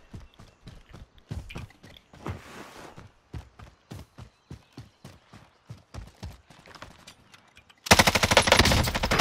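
Rapid gunfire in a multiplayer squad shooter video game, with bursts of evenly spaced sharp shots and short pauses between them, ending in a dense, louder volley of fire.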